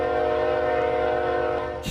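A sustained, loud, multi-tone train horn from a Chicagoland-area train simulator video game blares steadily for nearly two seconds and then cuts off abruptly, with no voices.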